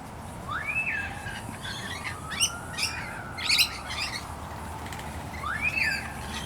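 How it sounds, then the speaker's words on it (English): Birds call and chirp outdoors in Brisbane, with a pair of rising whistled calls at the start and end and several sharp chirps between them, moderately distant over a steady hiss of background ambience. "the birds calling in the background were happy"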